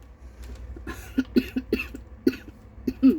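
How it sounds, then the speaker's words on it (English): A series of short, dry coughs spaced irregularly, close and fairly quiet, with no talking. "Sorry about the cough."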